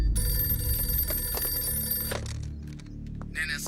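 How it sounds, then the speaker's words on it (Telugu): Telephone bell ringing with a loud, continuous electronic trill over a low hum, fading out after about two seconds, with no talk. "Sir phone."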